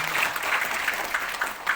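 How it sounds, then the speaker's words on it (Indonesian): An audience at a community gathering event in Bandung giving applause; close, continuous clapping from a modest crowd with slightly uneven bursts throughout. "Untuk itu kita sama-sama boleh berikan tepuk tangan, aplaus yang meriah untuk kedua orang yang luar biasa ini."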